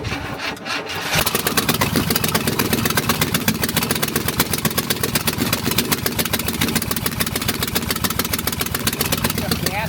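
An International 200 4x4 wrecker's engine cranks on a jumped starter switch; after a brief quiet start, a loud, rapid, rhythmic churning of the starter and engine runs steadily and close for the rest.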